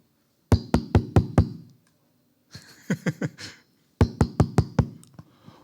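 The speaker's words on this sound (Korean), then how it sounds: "누가 문을 두드리는 거죠." Knocking on a door at night in a quiet village: sharp, close knuckle raps in three bursts of four to five quick knocks, separated by pauses, the middle burst softer.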